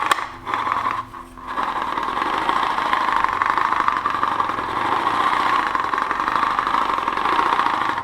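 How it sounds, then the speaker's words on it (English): A hand-cranked air blower spins steadily with a continuous whirring drone, close and fairly loud, briefly interrupted near the start before settling into an even, slightly uneven-running hum. "Well, it's not running smoothly, but it's running."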